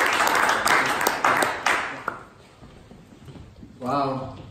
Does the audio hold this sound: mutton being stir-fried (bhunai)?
no